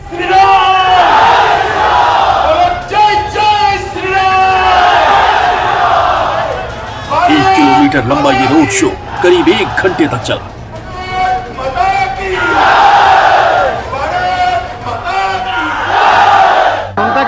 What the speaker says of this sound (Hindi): कई मौकों तक तो जय श्री राम के नारों की गूंज भी सुनाई दी।